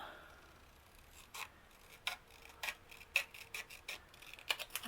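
Scissors snip paper down to size for a handmade gift book, a quiet, close series of short, crisp cuts coming faster toward the end against near silence.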